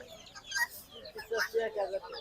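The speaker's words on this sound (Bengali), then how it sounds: "তিতির মুরগি" Guinea fowl call in rapid, scratchy chattering bursts close by at a poultry and bird market, amid a busy background with faint voices.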